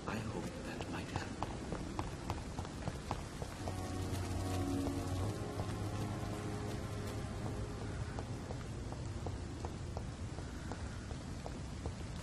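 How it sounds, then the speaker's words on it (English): Rain pours steadily in the Vampyr video game, a dense, even patter on surfaces throughout, with footsteps and a low voice murmuring beneath it. "It's always bloody raining around here."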